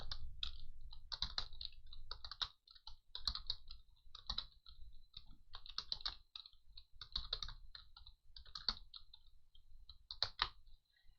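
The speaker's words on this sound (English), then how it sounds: "I'm going to be typing in the words, the number names." Someone types on a computer keyboard, producing quiet, quick bursts of light key clicks in an irregular rhythm with brief pauses between words.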